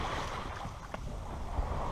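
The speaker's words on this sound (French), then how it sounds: "on est sous voile, il y a un petit 8-9 nœuds de vent, petite houlette" A sailboat moves under sail in light wind of about 8–9 knots with a small swell. Soft wind rush and water wash against the hull make a steady, fairly faint background with no voices.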